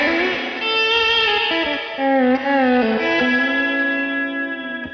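Electric guitar played through a Boss RV-200 reverb pedal on a slow setting, soft pedal-steel-style swelling notes with no attack, sustained gliding tones trailing into a long wash of reverb, loud and alone.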